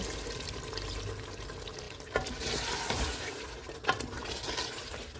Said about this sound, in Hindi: आधा कप पानी डालेंगे।